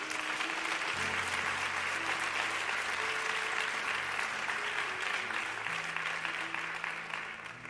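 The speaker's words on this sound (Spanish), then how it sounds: "Denle un fuerte aplauso al Señor." A church congregation claps steadily through a worship service, the dense applause holding at an even level while sustained organ or keyboard tones run beneath it, then starting to thin toward the end.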